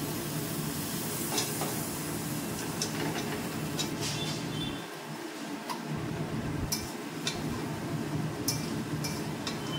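Sugar is added to a pan and stirred, with a spoon ticking and scraping against the metal over a soft, steady sizzle, close and without talk.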